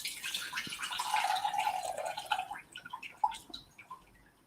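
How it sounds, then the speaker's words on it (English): Water trickles and drips in a kitchen as soaked onions are drained, a steady pouring splash that thins into scattered drips and small clinks near the end. "Okay, so drain the onions."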